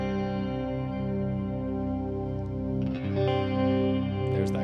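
An electric guitar runs through an echo pedal with chorus switched on, sustained chords shimmering and warbling with long repeating trails, then a fresh strum near the end, steady and fairly loud with no voice.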